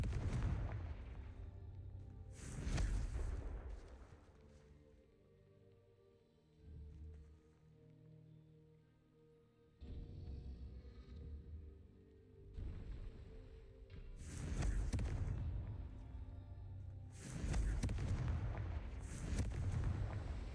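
Confringo fire-blast spell explosions in Hogwarts Legacy, several loud booming blasts with rumbling tails, spaced apart over a quieter game backdrop.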